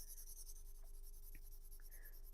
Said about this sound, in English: First of all, I will try it with my smooth shading technique, which is when I lay the pencil on the side.